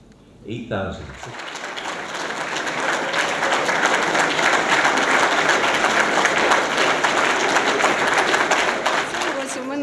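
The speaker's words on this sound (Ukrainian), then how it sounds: "студенти старших курсів привітали її гучними оплесками стоячи" Students at a first-day-of-school ceremony give a loud standing ovation, dense sustained clapping swelling quickly after a brief voice and holding steady, close and full throughout.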